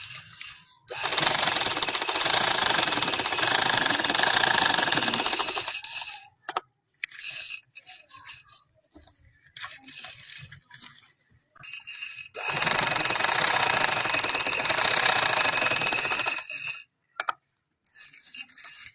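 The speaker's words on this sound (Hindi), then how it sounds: "तो ये पहले मैं इधर से सिलाई लगा लूंगी तो फिर मैं दरमियान वाला हिस्सा भी जोड़ लूंगी" A sewing machine stitches a pillow cover in two long loud bursts of steady mechanical whirring, separated by a quieter stretch of brief starts, stops and fabric handling.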